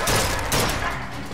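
Enemies in Bioshock Infinite fire at the player in a loud, close burst of shots with thudding low impacts, a short volley that fades slightly toward the end.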